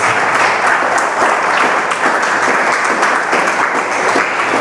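A church congregation applauds in a dense, continuous wash of many hands clapping, loud and sustained throughout.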